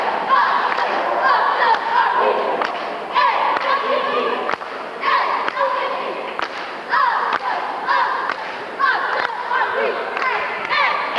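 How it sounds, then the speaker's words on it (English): At a 1988 high school basketball game between PCA and Blue Ridge, the PCA cheerleaders lead a crowd in rhythmic yells and chants, punctuated by sharp thumps and claps and sustained loudly across the gym. "PCA cheerleaders trying to get the crowd worked up"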